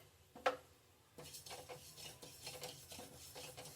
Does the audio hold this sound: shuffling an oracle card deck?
no